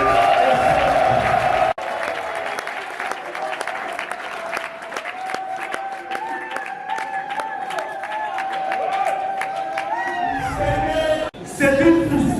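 Applause for a national deputy being honoured at a community gathering: sustained clapping from a crowd fills nearly the whole stretch, with a voice speaking over it and a sharp break before the clapping resumes at the end.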